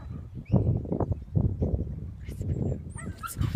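A sheepdog working near lambs gives soft whimpers and short yips, moderately close and irregular, with faint background noise and brief high squeaks.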